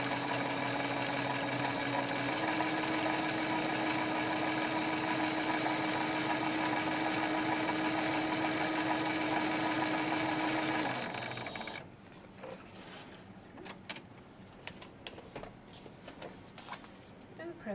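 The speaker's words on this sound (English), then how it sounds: "Sewing through that seam allowance." Sewing machine stitching through a quarter-inch seam allowance, a loud steady mechanical whir for about eleven seconds that then stops, leaving quieter handling noises.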